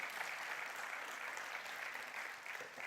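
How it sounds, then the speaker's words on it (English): Steady applause from a church congregation during a sermon, a dense continuous patter of many hands clapping at moderate distance, with no talking over it. "Go ahead and clap."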